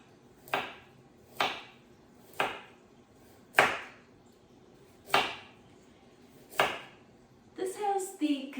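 A peeled beet is cut on a board with a knife, six sharp, evenly spaced chops ringing out clearly, followed by a brief scrape and clatter at the end.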